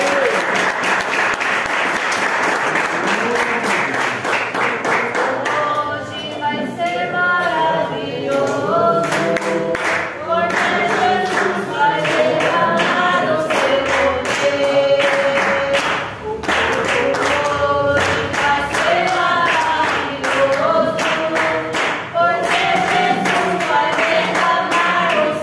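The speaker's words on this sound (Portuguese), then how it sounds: "E mais palmas para Jesus." A church congregation claps in unison during a worship service, sustained rhythmic applause mixed with music and voices, loud and continuous throughout.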